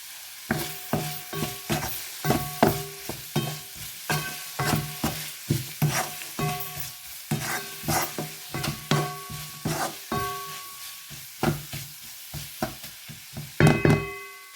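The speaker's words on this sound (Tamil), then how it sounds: "கொஞ்சம் உப்பையும் போட்டால் டக்கண்டு வதங்கி வரும்" Capsicum sautés with salt in a pan for noodles, a steady sizzle broken by rhythmic, close knocks and scrapes of a stirring utensil against the pan throughout.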